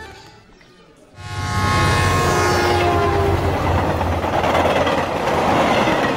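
A train sound effect comes in after about a second of quiet and builds quickly into a loud, sustained rumble with tonal horn-like whine and rolling wheel noise. No voices are heard.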